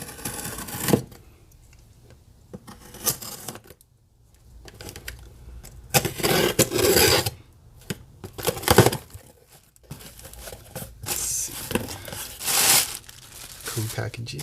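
Packaging for a Peterson StroboStomp HD tuning pedal is crinkled and torn open, the plastic and paper rustling in uneven bursts up close, with a person talking now and then in between.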